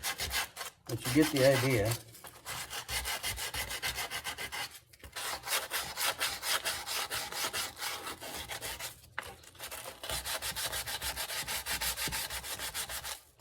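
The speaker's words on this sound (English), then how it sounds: "I want to sand that one a little bit." Hand sanding of a wooden guitar neck, long steady strokes of abrasive rasping over wood in repeated runs with short pauses between them, close and fairly loud, with a brief spoken remark.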